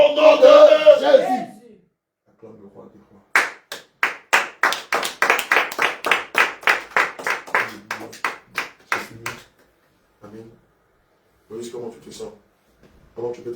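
Church congregation at a prayer and exhortation gathering in Limoges clapping in a steady, loud rhythmic burst of claps that rises and then thins out, with spoken voices before and after.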